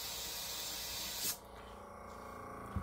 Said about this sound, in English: hold the trigger down, spray air, and spray it wherever you spray your paint